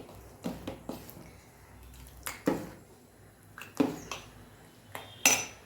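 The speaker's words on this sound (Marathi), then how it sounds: "स्टीलच्या पातेल्यामध्ये खाली बुडाला लगेच लागतं त्याच्यामुळे सारखं हलवून घ्यायचं आहे" A sabudana mixture is stirred in a steel pot, making a series of sharp metallic clinks and scrapes at irregular intervals, close and fairly quiet, with no talking.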